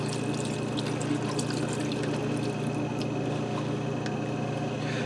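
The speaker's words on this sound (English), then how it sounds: "I'm going to dump in 4 cups of vegetable broth." Four cups of vegetable broth poured into a pressure cooker over spices and garlic, a soft, steady liquid pour with faint gurgling and drips, fairly quiet throughout.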